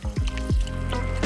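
Nigella's Sgroppino frozen cocktail being poured into a glass, a close, liquid glugging and splashing in a few uneven bursts.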